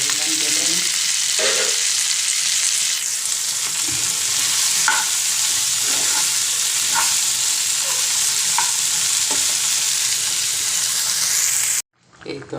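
Okra sizzles in hot oil with onion and green chili, a loud continuous frying hiss broken by intermittent spatula scrapes as it is stirred, with a voice speaking briefly over it before a sudden cut near the end.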